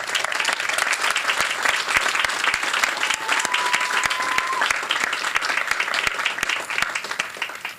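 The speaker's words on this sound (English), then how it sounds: "applause for the support for you." A large audience applauds at a 2014 college commencement ceremony, loud sustained clapping from many hands filling the hall with a dense, even roar and a few sharper individual claps standing out.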